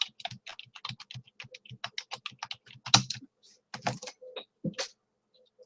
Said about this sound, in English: so you type in your UPC number